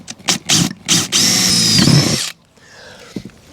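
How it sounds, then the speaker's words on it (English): A power drill boring a small drainage hole in the bottom of a little cup aboard a wooden boat: short bursts, then a sustained whine for about a second before stopping, loud and close. "drill a small drainage hole in the bottom of this"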